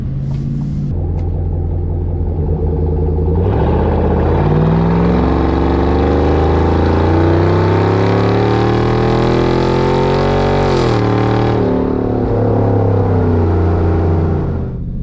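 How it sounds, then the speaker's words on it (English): A Chevrolet Silverado ZR2 pickup's loud aftermarket exhaust drones steadily while driving, rising as the engine revs up mid-way, then easing back, heard from inside the cab. "Driving with the new exhaust."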